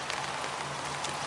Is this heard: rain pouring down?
yes